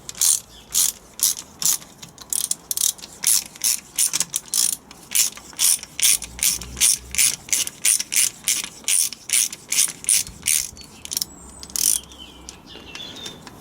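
A ratchet wrench clicks in steady, rapid back-and-forth bursts as it runs transfer box bolts down on a Land Rover Defender TD5 LT230, loud and close throughout with no talk.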